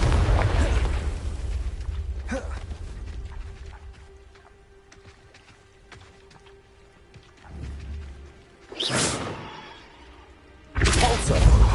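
Confringo blasting spell explosions in a Harry Potter video game: loud, roaring bursts open the passage and return twice near the end, separated by a quieter stretch of low hum.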